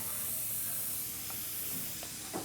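Compressed air hisses in a steady, continuous stream from the air line of a sand bead blaster in a workshop, fairly close, with a few faint clicks near the end.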